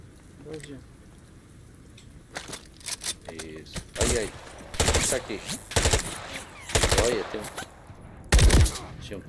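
Gunfire in the Call of Duty: Modern Warfare III campaign, played on Xbox Series X: a string of loud, sharp shots in separate bursts, heaviest toward the end, with someone talking briefly early on.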